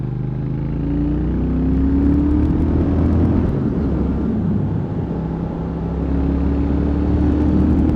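A 2016 Triumph Thruxton 1200 motorcycle engine pulls under rolled-on throttle, a steady, loud, close rumbling drone with rising and falling pitch as revs climb, heard alone without voices.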